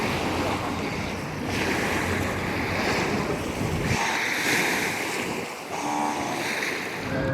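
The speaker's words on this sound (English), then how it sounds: "I instantly calm down when I hear waves lapping on shores." Waves wash onto a riverbank shore by a ferry crossing in Lisbon, Portugal, a continuous surging wash with wind buffeting the microphone and no talking.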